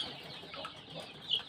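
Young joper chickens sick with CRD respiratory disease make faint, scattered clucks and chirps close by, quiet and brief.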